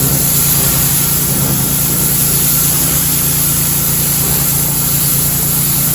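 Ryobi pressure washer with a power blaster tip cleaning a damaged screen enclosure, a loud, constant engine drone and spray roar at close range throughout.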